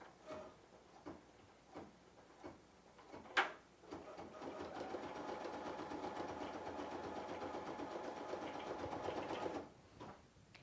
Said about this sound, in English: touch and hold my green button until it starts to stitch